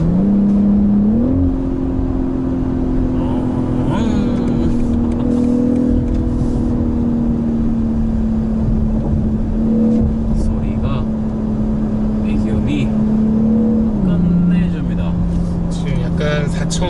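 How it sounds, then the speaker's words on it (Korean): A BMW 8 Series on a drive from Jeonju to Jindo gives a steady engine and exhaust drone inside the cabin. The pitch steps up and down as revs change, with voices talking over it. "이렇게 배기음이 나왔다가 안 나왔다가 약간 밀당하듯이 나오는 것 같아요"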